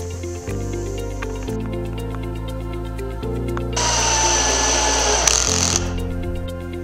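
A power drill bores pre-drilled holes in wooden planks for a floating loft bed in a tiny house, one loud whirring burst of about two seconds over a steady tonal background.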